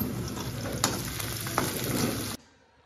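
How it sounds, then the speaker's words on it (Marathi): Vegetables tipped into hot oil tempering with garlic, giving a loud close sizzle with a few sharp crackles and stirs, which stops abruptly near the end and leaves quiet. "चला आता मी भाजी टाकते फोडणीला"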